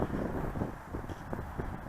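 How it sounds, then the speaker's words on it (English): Steady wind buffeting the microphone at a model airfield, a low rumbling roar with gusty fluctuations throughout and no voices. "It's just a little windy."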